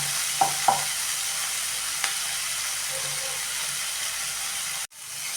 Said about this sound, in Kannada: ಉಪ್ಪು ಹಾಕಿಬಿಟ್ಟು ಒಂದೇ ಒಂದು ನಿಮಿಷ ಇದನ್ನು ನಾವು ಫ್ರೈ ಆಗಕ್ಕೆ ಬಿಡೋಣ